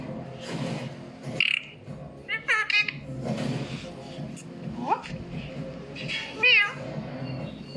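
A cat meowing several times, close and fairly loud, in short drawn-out cries spread across the moment, with a person talking quietly underneath.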